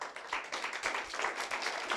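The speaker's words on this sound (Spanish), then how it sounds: "Dale un aplauso a Dios si lo crees." A church audience claps in applause, a dense, continuous patter of many hands at moderate volume.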